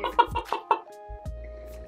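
A human voice mimics a chicken, giving a run of short clucking bursts followed by a drawn-out crowing note, close and fairly loud with no other talk.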